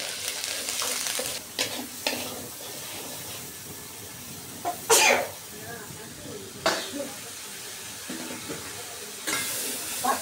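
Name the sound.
onion garlic paste frying with green beans, stirred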